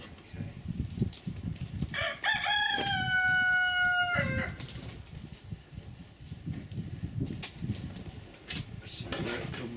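A cockerel crows loudly nearby in one long drawn-out call midway through, over the sounds of a workshop where a man works on a Spitfire car's clutch cylinders, with soft clattering and faint rustling before and after.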